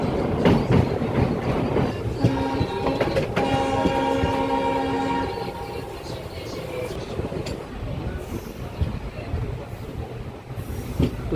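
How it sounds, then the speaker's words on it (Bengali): A moving passenger train on the Belakoba rail route, heard from on board, gives a steady rumble and clatter, with a sustained horn blast partway through. "আমাদের ট্রেনের গতি বেশ ভালোই আছে।"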